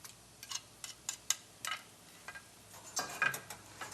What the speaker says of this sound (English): Let's raise the heat a little bit and whisk everything around.